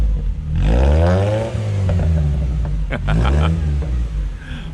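A 1992 Toyota Corolla 1.3 SEG engine revs up and settles into a deep, throaty burble, rising again briefly, loud and close.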